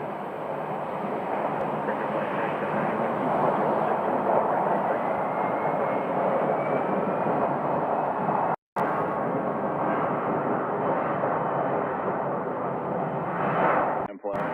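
A Frontier Airbus A321-200 airliner departs Phoenix Sky Harbor, its engines a loud, steady roar that holds throughout with one brief dropout near the middle and fades at the end.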